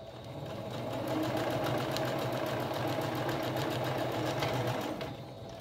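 A sewing machine stitches two fabric ends together, right sides facing, in one continuous close, loud mechanical whir with a rapid rhythmic needle clatter that starts, holds steady for several seconds, then winds down.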